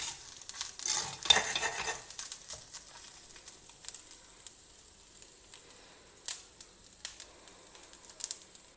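Grated coconut and rock salt roast in a hot pan on a stove that has been switched off, giving faint sizzling and repeated scraping strokes of stirring, softly and close by.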